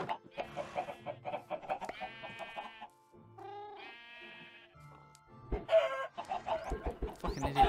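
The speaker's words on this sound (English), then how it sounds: "fucking idiot chicken. Get in." Minecraft chickens cluck and squawk in a busy, bleating chorus of short calls, loud and close, layered over game sounds without any talk.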